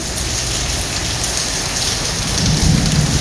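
Heavy rain pours down steadily during a storm in the UAE, with thunder rumbling low beneath the dense hiss, swelling slightly louder near the end; no voices.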